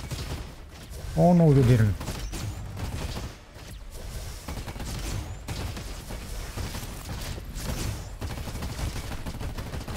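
Dense, continuous junk rifle fire from the Commando class in the robot shooter Roboquest, rattling on for most of the stretch under a brief exclaimed voice and steady game noise.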